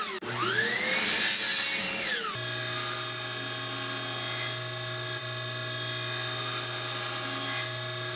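A power saw spins up and bites into a wood piece for a shop air cleaner, a loud whining roar that drops in pitch under load, then settles into a steady cutting drone.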